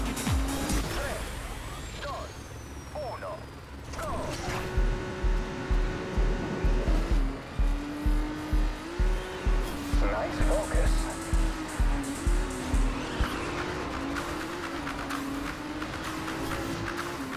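Race car engine held at full throttle in Trackmania Turbo, a steady droning whine that holds and rises in pitch, with rhythmic thumping impacts partway through, under continuous talk.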